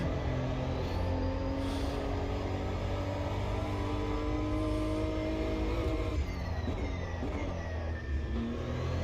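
A GT3 race car engine in Automobilista 2 at Road Atlanta drones steadily throughout, holding a constant roar with shifting pitch as it accelerates and changes gear, near and alone with no talk.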